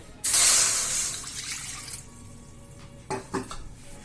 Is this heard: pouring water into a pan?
yes